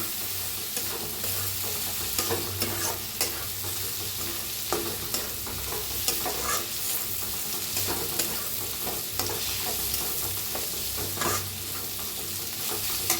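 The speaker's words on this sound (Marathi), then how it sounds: "ह्याच्यात टाकायची हळद. हळदीला बी भाजून घेऊया." Turmeric roasting and being stirred in a pan of rice-and-stuffed-chilli seasoning, a steady sizzle with repeated scraping stirs and small clicks throughout, close and moderately loud with no talking.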